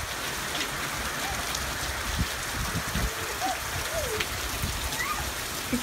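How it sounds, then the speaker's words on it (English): Heavy rain pours steadily outside an open window, a dense, even hiss with no break, and faint bird chirps come through now and then. "It's raining hard."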